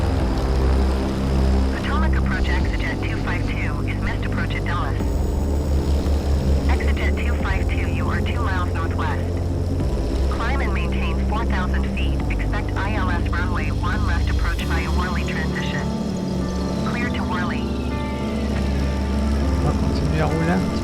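Steady propeller drone of a Cessna C414 twin-engine aircraft in a flight simulator game, loud and continuous throughout, with people talking over it much of the time.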